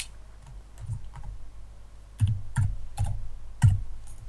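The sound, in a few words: typing a file name on a computer keyboard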